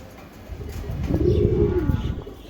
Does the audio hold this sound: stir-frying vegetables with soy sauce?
no